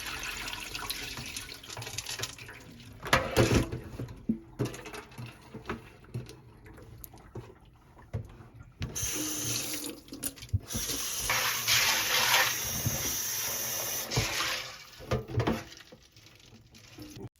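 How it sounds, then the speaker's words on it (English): Dried peas being washed for Jamaican stew peas under a running kitchen tap at the sink; water patters and splashes nearby, swelling into a louder rushing stream midway, with no talking. "I'll be using 2 packs of peas and do a nice wash."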